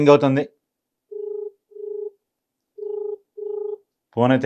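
Four evenly spaced mobile phone ringback tones, set off by brief bits of speech at the start and end.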